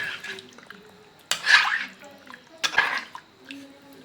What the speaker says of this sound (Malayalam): ഇനി ഒന്ന് മിക്സ് ചെയ്ത് കൊടുക്കാം